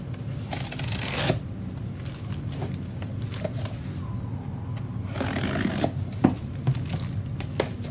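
Blade slicing through cardboard and plastic wrapping on a boxed rolling mill during unboxing, a steady close scraping and crinkling with brief louder rips and tearing bursts.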